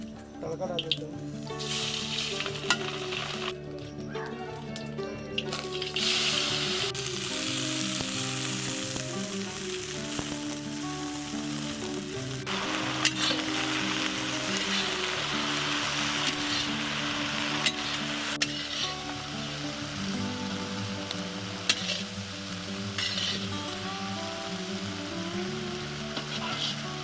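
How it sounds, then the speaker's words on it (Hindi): Garlic, red chili, fenugreek and cumin sizzle and crackle steadily in hot oil for a vegetable dish, a loud, continuous frying hiss close up with clinks of a stirring utensil now and then. "तेल गरम हो गया है, तड़का डाल देते हैं"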